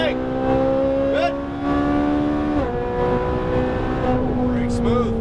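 A Ferrari 458 Italia on a track, its engine holding a loud, steady in-car drone with pitch shifts as the throttle rolls on, while a person talks over it.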